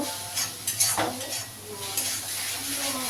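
Spice masala for chicken cutlet curry sautés in a pan with a soft, steady sizzle, while a spoon stirs and scrapes against the pan a few times, close and without talking.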